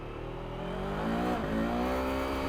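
Voge RR525 sport motorcycle engine pulling hard, a loud, rising drone that climbs steadily in pitch with a brief dip at a gear change, heard alone without talk.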